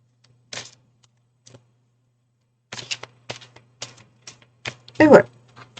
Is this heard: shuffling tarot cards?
yes